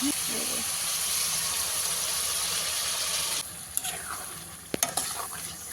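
Spice paste fries in hot oil in a wok with chicken for a curry, giving a loud continuous sizzle that suddenly drops to a quieter hiss, followed by a few stirring scrapes and clinks.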